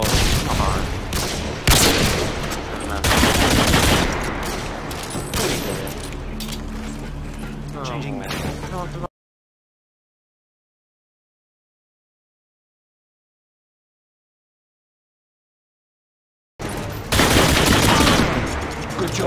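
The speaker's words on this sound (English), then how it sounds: "firing sniper" Sniper rifle fire in a video game comes as loud, sharp bursts over about nine seconds amid busy game noise and speech, then cuts to silence before another loud burst returns near the end.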